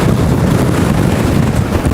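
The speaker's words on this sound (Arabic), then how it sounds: "واحد الريح لهنا." Strong wind at the southern tip of Africa buffets the microphone in a constant low roar, loud and close with no voices.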